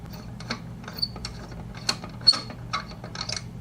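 Wrenches loosening a router collet to change the bit in a woodworking shop: soft, close metallic clicks and ratcheting taps in an irregular rhythm, fairly faint, with no voices.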